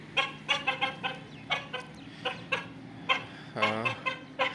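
Chickens cluck in short, repeated bursts on a rooftop, several birds close by, with a louder squawk near the end; no talking.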